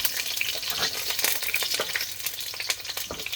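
Sliced onions fry in a pan for spaghetti with meatballs in tomato sauce, a continuous close sizzle and crackle with stirring scrapes throughout.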